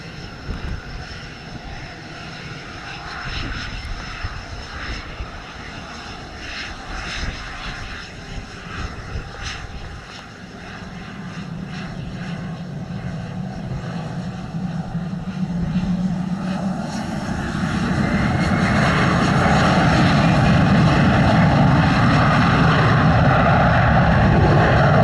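An airliner taking off from runway 07 at Montego Bay, engines heard at a distance with a steady roar that swells louder and fuller as takeoff power builds, over outdoor background noise.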